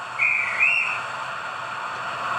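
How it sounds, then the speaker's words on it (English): A guard's whistle sound effect from a Hornby BR blue Merchant Navy OO gauge model locomotive gives two short, shrill, close blasts in quick succession over a faint steady hiss. "Function 16 is a guard's whistle."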